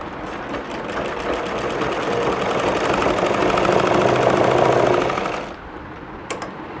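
A sewing machine stitches in a continuous rapid mechanical whir with a fine rhythmic clatter, close and loud, swelling slightly before stopping, followed by a few faint clicks.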